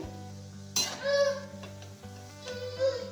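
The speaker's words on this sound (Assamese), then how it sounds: "এয়া মই ভাজি আছোঁ এতিয়া" Oil bursts into a sizzle as kata nimki fry, and keeps crackling over steady background music, with a few scraping stirs against the pan.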